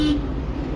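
A car horn sounds once in a short toot during a driving lesson, close and loud over the low hum of the vehicle's engine.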